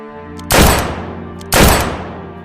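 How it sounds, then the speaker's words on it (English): Two loud gunshots about a second apart, each followed by a long reverberating echo that fades out. "2 gunshots echoed the place."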